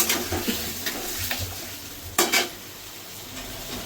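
Ginger, green chili and tomato paste sizzle in hot oil while a spatula scrapes and stirs the pan in short strokes, close and steady with no talk.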